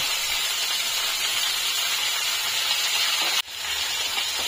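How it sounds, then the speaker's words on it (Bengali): Pui metuli (Malabar spinach seeds) frying in the same hot oil used for shrimp, a loud steady hissing sizzle that cuts off briefly near the end before rising again, with no talk. "এবার ওই তেলেতেই আমি পুঁই মিটুলিগুলোকে একবার ভেজে নেব"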